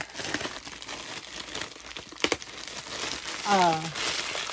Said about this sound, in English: I didn't have like a Ziploc bag or anything, so I just used this cellophane